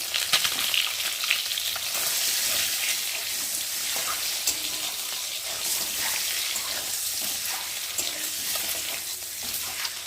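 Eggs frying in oil in a pan give off a steady, close, bright crackling sizzle that continues throughout with no talking.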